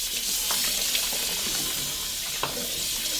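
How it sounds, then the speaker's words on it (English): Tap water runs steadily into a basin being rinsed during a modified bed bath, a continuous close wash of splashing flow with a few small clinks, no talk. "turn the water on. I'm going to rinse all sides of my basin."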